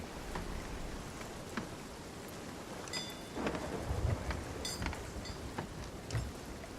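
Thunderstorm in the Sea of Thieves video game: steady rain hiss with rumbling thunder swells and sharp crackles, loud and continuous throughout with no talk.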